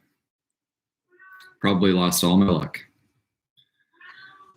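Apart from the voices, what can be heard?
cat meowing and caterwauling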